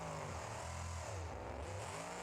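A monster truck engine revs hard in BeamNG.Drive. The truck is a drag-style build with a 555 cubic inch Hemi making over 4,000 horsepower, and it gives a dense, continuous low roar with rising and falling pitch. No one talks.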